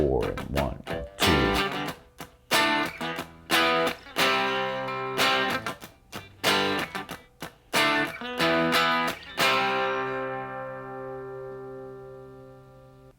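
Loud, distorted electric guitar plays a riff in rhythmic strummed chord bursts with brief stops, ending on a long sustained chord that slowly rings out.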